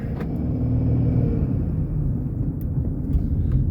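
A diesel car engine with a particulate filter runs loud and close, a steady low rumble with no break and no voices.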